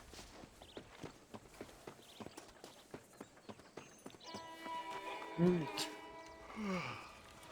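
Horse hooves clip-clop in a steady walking rhythm in the Western video game Red Dead Redemption, clear and close at first, then giving way to talk and a short whinny-like sound.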